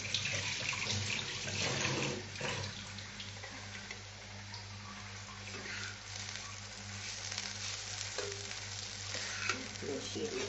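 Spices and rice for ilish pulao are stirred in a frying pan, with a continuous hissing sizzle and scraping, clattering stirring strokes over ten seconds, close and fairly loud.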